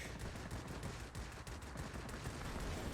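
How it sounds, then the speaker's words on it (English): Aircraft cannons on an IL-1 fire in World of Warplanes as a dense, continuous rattle of rapid shots over a steady engine roar, loud and close throughout. "Cannons aren't quite as strong as I wanted to be either"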